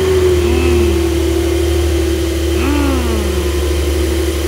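A stock Porsche 911 Turbo S engine runs with a steady, loud mechanical drone. Two brief rising revs swell over the hum, with no voices.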